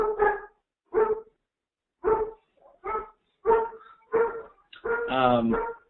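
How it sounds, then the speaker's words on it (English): Poodles bark in a series of sharp, close barks spaced about a second apart, ending with a longer whining yelp. "My poodles will stop barking in a second."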